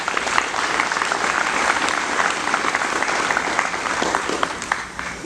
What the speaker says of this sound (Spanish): Eso fue bueno, un aplauso para ellos.